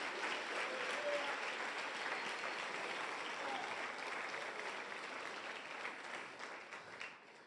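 A church congregation gives a strong round of applause to Jesus, broad, even clapping from many hands that fills the room and slowly fades toward the end.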